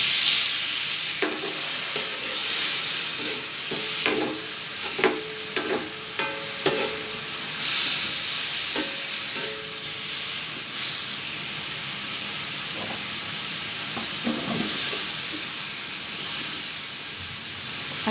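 Chayote and other vegetables sautéing in a pan with a little dried fish, a continuous bright sizzle broken by repeated scraping and clinking strokes of a spatula stirring, close and alone without talk.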